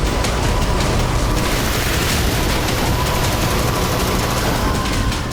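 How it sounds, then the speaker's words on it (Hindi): Continuous loud automatic gunfire from a Russian military helicopter, dense and unbroken rattling over a roaring, noisy background. "रूसी हेलीकॉप्टर फायरिंग करके इसे रोकने की कोशिश करता है।"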